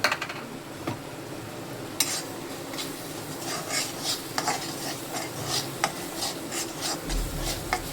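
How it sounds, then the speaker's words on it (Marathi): Peas cook in oil with turmeric and homemade spice masala, a low sizzle under repeated scraping and rubbing strokes of a spatula against the pan, close and fairly quiet, no voices. "थोडं 5 मिनिटं आपण फ्राय करून घेऊ मसाला."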